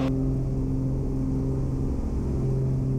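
A small airplane engine runs at full throttle during takeoff, a loud steady drone with strong low tones that stays constant through the whole stretch.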